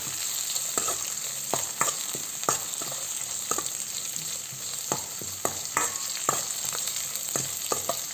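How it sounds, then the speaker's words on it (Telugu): Chopped onions with curry leaves frying in a pan for a drumstick tomato curry, a steady close sizzle broken by repeated scrapes and taps of a spoon as they are stirred, no voices. "ఇదంతా కొద్దిగా బ్రౌనిష్ కలర్ వచ్చేంతవరకు ఫ్రై చేసుకుందాం."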